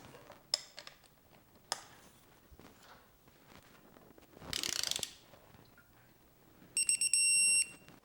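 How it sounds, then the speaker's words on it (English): A torque wrench on an M8 Allen key tightens a frame slider bolt on a Honda Monkey 125 to 25 foot-pounds: scattered sharp clicks, a short burst of ratcheting, then a quick run of loud beeps at the end. "this uses a much beefier M8 Allen key. And this one I'm torquing down to 25 foot-pounds"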